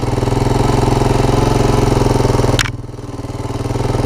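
Honda TRX250 ATV engine running with a steady, loud, pulsing idle up close, briefly dipping in pitch after a sharp click before recovering.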